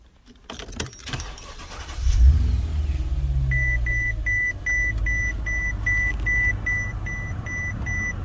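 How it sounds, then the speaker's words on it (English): A 2008 Mercedes-Benz CL500 engine cranks and catches, settling into a steady low idle rumble close by, with keys jangling at first and repeated electronic chimes beeping over the running engine. "Now we're gonna start the car."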